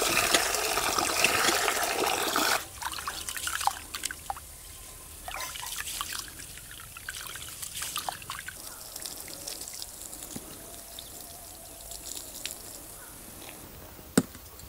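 Running tap water trickles and splashes steadily as raw chicken is washed by hand in a kitchen, with a louder gush at the start and then scattered drips and soft handling noises, no talking.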